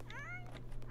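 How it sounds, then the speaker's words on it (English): Several cats meow in The Sims 4, a string of rising and falling mewing calls close together over a steady low game hum, with a voice faintly in the background. "Oh my god, there's so many cats."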